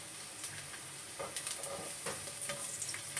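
Garlic fries in hot oil, a steady close sizzle with scattered crackles and the scrape of stirring.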